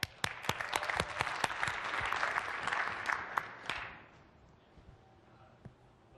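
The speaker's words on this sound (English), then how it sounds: "Please give him a round of applause." A round of applause from the audience at a MIX07 tech conference session, with a few loud sharp claps standing out near the front before it fades away and leaves a quiet room.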